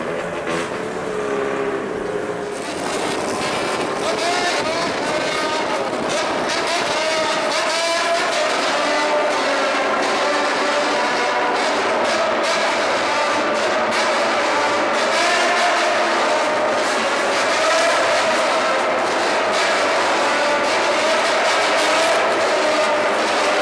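A bosozoku motorcycle gang revs its engines in a road tunnel, a loud, continuous, reverberant engine roar that swells and wavers for over twenty seconds with no talking.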